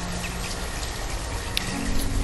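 Steady rain in the city-building game Banished, a constant wash of falling drops with faint patters, even and unbroken throughout.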